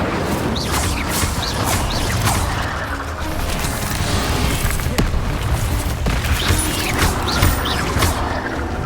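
Spell effects and blasts from a Harry Potter video game ring out in a dense, continuous barrage of loud crackling bursts and booms, one firing after another.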